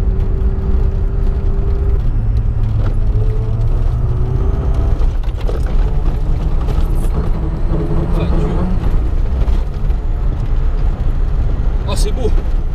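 A VW Polo G40 runs while driving, its engine a steady low drone with rising and falling gear-change tones under constant road rumble and wind, loud and close throughout.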